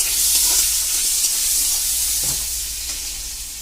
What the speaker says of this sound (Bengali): জিরেটা ভাজার পর আমি আলুটা দিয়ে দিলাম। আলুটা একটু ভাজবো।